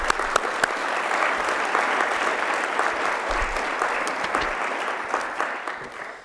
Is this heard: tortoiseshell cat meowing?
no